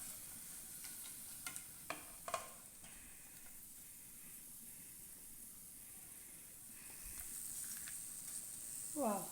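Okra (ladies finger) frying in a pan, with a low steady sizzle throughout, a few sharp stirring clicks and taps early on, and the sizzle swelling slightly toward the end.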